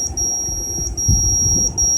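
An Arduino buzzer driven by an ultrasonic proximity sensor gives off a thin, high, continuous tone with faint pulsing, close and steady over a low background rumble and light handling bumps.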